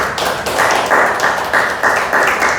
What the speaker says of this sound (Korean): 우리 아이들에게 박수를 쳐줄까